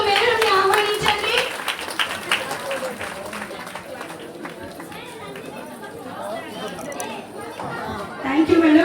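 An audience claps to welcome MLA Bhuma Akhila Priya to the stage at a parents and teachers meeting, scattered applause mixed with crowd chatter and voices across the room.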